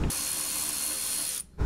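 A ratchet works loose a side headlight bolt on a Lexus GX470, giving a continuous close, bright buzz of rapid clicking that cuts off abruptly near the end.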